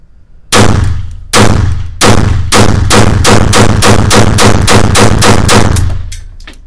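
A Beretta 84 FS pistol fires a string of about fourteen loud, sharp shots, each one alone. The first few come with short pauses between them, and the rest follow in a fast, steady rhythm.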